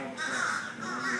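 A single crow gives a harsh, drawn-out caw, fairly close and clear, repeating in two quick pulses over a quiet outdoor background.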